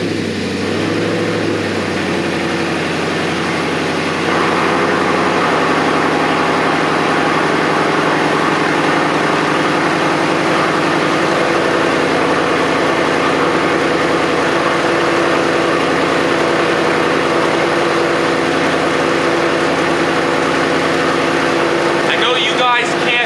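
A Ford Mustang with a faulty canister purge valve idles steadily close by, a continuous low engine drone with a faint hum throughout; the engine starts near the beginning, then settles into an even idle.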